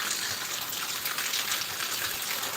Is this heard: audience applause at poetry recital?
no